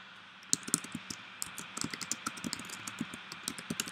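Quick, uneven keystrokes on a computer keyboard while numbers are entered into a calculator, close and crisp, with irregular clusters of clicks over quiet background hum.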